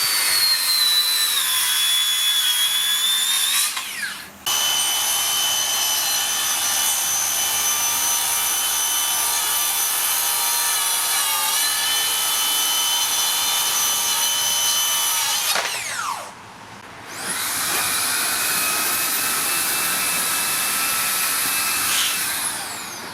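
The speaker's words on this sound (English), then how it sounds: "So cut and sopping wet 2-inch thick timber is a fairly good way to test that." A Makita 40v plunge saw cuts through sopping wet 2-inch thick timber, giving a loud, high-pitched whining drone that holds steady for long stretches and briefly drops out twice before spinning back up.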